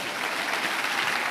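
Brief, loud applause from a church congregation at a Portuguese-language service, dense clapping sustained evenly throughout the short moment with no talk over it.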